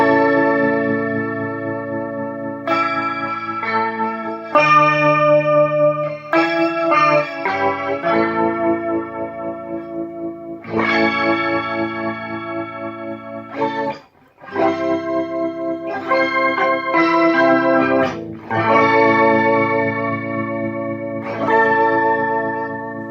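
Electric guitar through a Pitchfork pitch-shifter at 50% blend and a Mod Core pedal set to rotary, giving an organ-like tone with swirling chorus-like modulation over sustained chords and melodic phrases, played alone with brief pauses between phrases.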